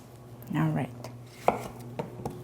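A knife chops zucchini on a cutting board in a few slow, distinct strikes, close and fairly quiet, with faint background hum and no talking.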